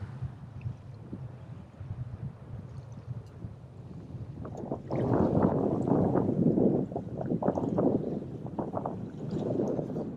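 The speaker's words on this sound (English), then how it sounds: "This wind blowing like this makes it a little rougher to fish" Wind blows across a fishing boat at sea, a steady roar and buffeting against the microphone that strengthens and gusts through the second half, with low hull and water rumble underneath.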